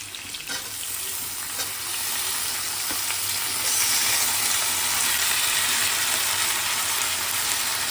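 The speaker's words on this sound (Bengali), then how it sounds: "আলুটা হালকা ভাজা হয়ে গেছে, এখন আমি ভেন্ডিটা দিয়ে দিচ্ছি।" Potatoes and okra fry in oil in a pan for a poppy-seed okra-potato curry, giving a steady, close sizzle that builds slightly, with occasional stirring scrapes and no talk.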